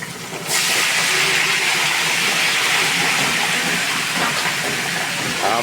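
Pork sizzling as it fries in a pan for sinigang na baboy, a loud, steady hiss that starts abruptly and holds at close range, with no talk.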